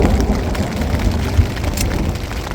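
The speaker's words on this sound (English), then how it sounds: "Those storms can generate a lot of rain" Heavy summer-storm rain pours down in a dense, steady roar with a low rumble beneath, loud and continuous with no voices.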